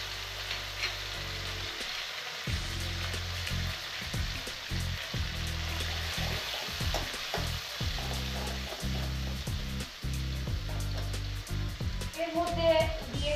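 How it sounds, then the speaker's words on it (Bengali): Fish sizzling in hot spiced oil in a pan, a steady frying hiss with crackles and occasional stirring, continuous and close throughout. "একটু ভাজা ভাজা করে নেব।"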